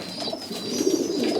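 Racing pigeons of an old bird team coo softly inside a loft, a steady murmur of overlapping low calls close by with no talking.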